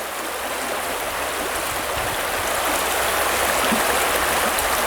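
Fast water in a trout river rushes in a loud, steady, broadband roar that stays constant and close, with no voices.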